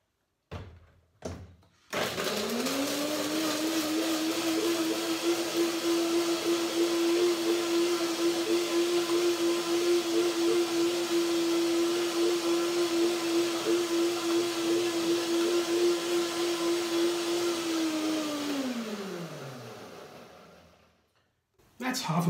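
A blender whirs steadily for about sixteen seconds, blending a garlic cashew dressing with water and Baer's garlic, starting abruptly after a couple of knocks and winding down at the end, loud and close with no talk over it.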